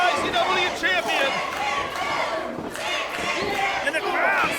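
A wrestling crowd at an IZW championship match cheers and roars steadily and loudly, with shouts rising above the din and announcer-like talk running underneath.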